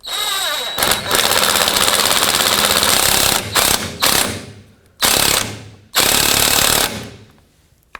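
An impact or power ratchet tightens a sway bar link nut on a 2007-14 Chevy Silverado, a loud, rapid hammering rattle in several bursts of a second or two, separated by short pauses.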